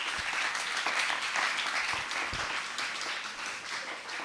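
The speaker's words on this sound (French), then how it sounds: "Ok, on s'applaudit." Audience applause at a prize-giving for a contest's winners, a full, even sheet of clapping from many people that holds steady for several seconds with only slight swells.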